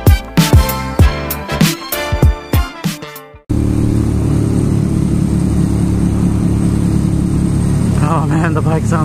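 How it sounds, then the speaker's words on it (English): A Ducati Monster motorcycle ridden through city streets between Brooklyn and Manhattan, its engine note building through the opening seconds in rising gear-change sweeps, then holding a steady, loud drone for the remainder. "Oh man, the bike sounds so good."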